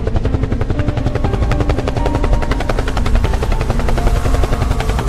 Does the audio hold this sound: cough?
no